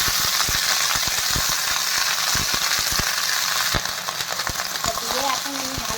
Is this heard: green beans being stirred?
yes